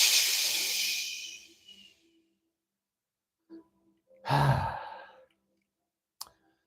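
Slow breath exhaled during pranayama in a gentle restorative yoga practice: a long, breathy whoosh fades out, then after a short pause comes a second, shorter rushing exhale and a faint click at the end.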